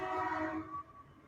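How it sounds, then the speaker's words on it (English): A train passes at a distance, giving a sustained tonal horn and rumble that holds briefly, then drops away and fades. "Oh, there's a train."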